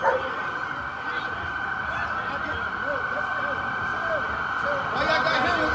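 A police dog barks at a George Floyd protest in Baltimore, repeated sharp barks and yips over a steady siren and crowd noise, with people talking.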